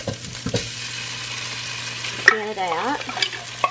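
Ground meat frying in a pan, with most of the grease drained, is stirred as cream of mushroom soup goes in: a steady close sizzle with scraping and clinking bursts, under brief talk.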